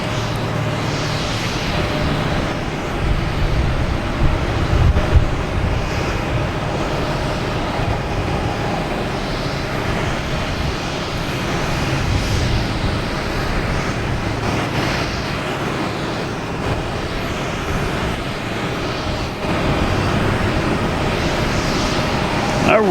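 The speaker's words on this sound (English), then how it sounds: "we have a JetBlue coming in from Philadelphia, flight 560 and A220" A JetBlue Airbus A220 from Philadelphia lands at Boston Logan, its engine noise a continuous rumble with a low roar that swells and eases, while a voice speaks now and then.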